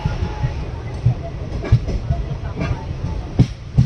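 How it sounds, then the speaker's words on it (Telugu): A passenger train rolling to a halt at Dhone railway junction, with rumbling wheels and irregular clacks and thumps over rail joints close by, steady and moderately loud for a few seconds. "డోన్ జంక్షన్లో అయితే ఆగిపోయింది అనమాట ట్రైన్ అయితే"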